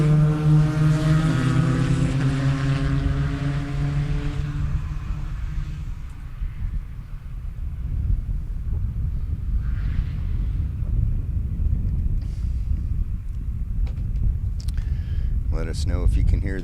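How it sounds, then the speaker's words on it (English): Race cars lapping Sebring during Sports Car Club of America amateur club races: a droning engine note with shifting harmonics recedes over the first six seconds, leaving a steady rumble beneath continuous commentator talk. "Let us know if you can hear the cars okay."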